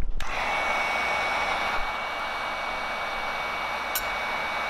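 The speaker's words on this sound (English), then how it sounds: "I heat gunned it until I could start really seeing those nodes." A heat gun blows over a soft plastic swimbait as it is heated, making a loud, constant close-up airflow roar that starts abruptly and holds steady throughout.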